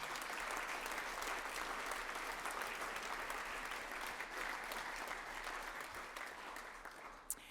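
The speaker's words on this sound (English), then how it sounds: "A round of applause for our talkers this evening." An evening talks audience claps steadily for the speakers, a dense, even wash of applause from a crowd that holds through the whole stretch at a moderate distance.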